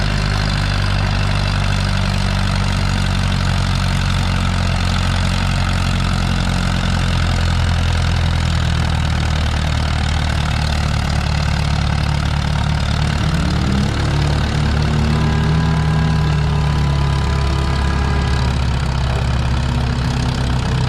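A Farmall 400 tractor engine drones loud and steady while pulling a sled at a spring tractor pull, its low rumble rising in pitch partway through.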